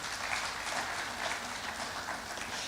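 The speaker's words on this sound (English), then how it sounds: "Please, a round of applause for her." Audience at an agriculture summit clapping for a speaker, a continuous even patter of hands at moderate distance with no voices standing out.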